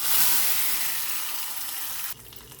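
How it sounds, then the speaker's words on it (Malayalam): Hot tempering of chillies and shallots poured into a mango-seed curry, bursting into a loud, bright sizzle that hisses steadily, then cuts off sharply to a faint simmer near the end. "ഇതിലോട്ടൊന്ന് താളിച്ചു കൊടുക്കാം"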